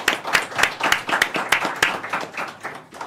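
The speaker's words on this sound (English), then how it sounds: "So applause for Startups." Conference audience at a Qubes OS summit claps in a short burst, with several distinct, fairly close hand claps standing out over a steady spread of applause.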